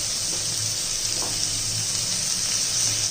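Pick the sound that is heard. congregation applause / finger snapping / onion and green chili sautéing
onion and green chili sautéing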